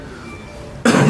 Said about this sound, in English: Choking on my spit, my mouth dry.